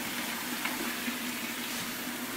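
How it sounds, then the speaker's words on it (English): Lukewarm water runs from a tap into a sink, a steady close hiss and splash that stays even for the whole moment with no talk. "So I'm going to fill that full of lukewarm water."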